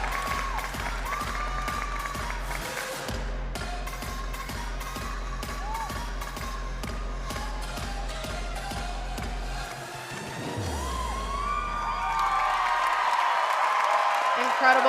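Arena crowd at a college women's gymnastics meet, Maryland at Ohio State, applauding and cheering after a stuck final tumbling pass; steady loud clapping throughout, swelling louder near the end, under rhythmic floor music and commentator talk.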